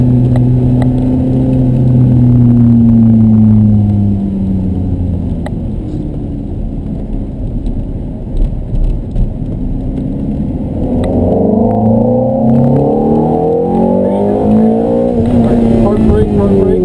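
A Ferrari F430 on a driving course pulls hard, its engine note rising in sweeping pitch as it gains speed, dipping briefly before climbing again, with a voice talking over the steady drone.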